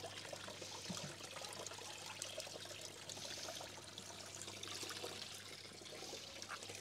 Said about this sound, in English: So I'm just going to grab a bit of pond water.